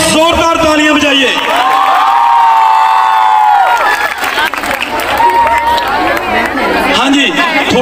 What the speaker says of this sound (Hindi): एक बार उनके लिए जोरदार तालियां बजाइए।